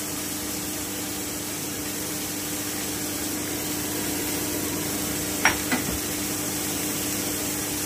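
Vinegar-marinated chicken mince sizzles in hot spiced oil in a pan, a steady broadband hiss that runs unbroken throughout, with a couple of brief clinks near the end.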